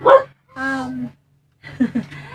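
A dog barks indoors in a house, three short yips and bow-wows separated by pauses, close and fairly loud with no talk over them.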